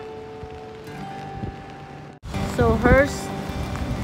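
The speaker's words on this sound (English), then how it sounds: "we have to wear an umbrella because it's raining" Rain patters steadily on an umbrella overhead at Devil's Punch Bowl, Lincoln City, Oregon, with a burst of wind and a person speaking briefly near the end.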